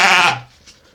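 A newborn lamb gives one loud, close bleat that fades after about a third of a second, followed by near silence.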